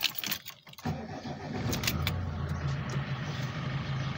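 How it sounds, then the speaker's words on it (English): A car engine started with a key: brief clicks and a short cranking, then the engine catches and settles into a steady low idle that continues to the end. "And start the engine up."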